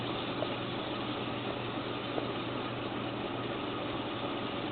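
A Mayak-205 reel-to-reel tape recorder rewinding makes a steady, even mechanical whirring hum that runs continuously at a constant level, with no pauses or voices.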